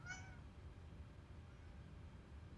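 A single short cat meow sounds at the very start, faint and brief. Quiet, steady background hum fills the rest.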